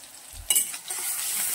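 Finely chopped onion with turmeric hits hot oil in a pan, a sudden loud sizzle with a stir that then settles into a steady frying hiss, close up and without speech.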